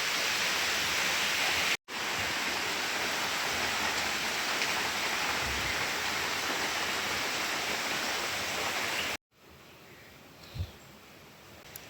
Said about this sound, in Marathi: आणि पाऊस छानपैकी पडू राहिलेला आहे मस्त